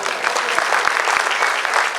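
Dense, continuous clapping from an audience at a school festival in Pune, loud and close, with no pauses for the whole stretch.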